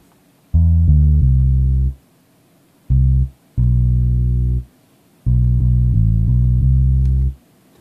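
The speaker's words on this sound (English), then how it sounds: "you can see our old MIDI bass" A synthetic bass line plays three short phrases of stepped notes, each separated by brief silences, even and mechanical in feel.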